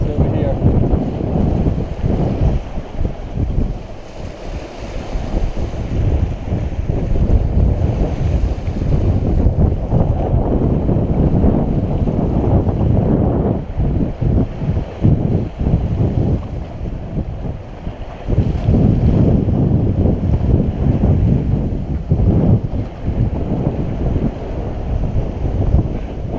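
Wind and water wash around a Pearson Ensign sailboat under sail, a loud, continuous roar of wind buffeting the microphone over the slosh of waves against the hull, steady for the whole stretch.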